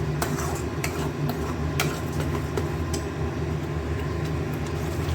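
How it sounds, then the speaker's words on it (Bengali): Tomato paste being stir-fried with ground spice paste in a pan, heard as a continuous low frying hiss with repeated scraping and clinking of a utensil against the pan at an irregular rhythm. "এটা দিয়েও কষাবো, সব কিছুর কাঁচা গন্ধটা যাওয়ার জন্য অপেক্ষা।"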